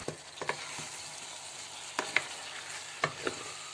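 Chicken and vegetables stirred in a frying pan, with a soft steady sizzle under scattered light scraping and clinking of a utensil against the pan, a few sharper stirring strokes standing out.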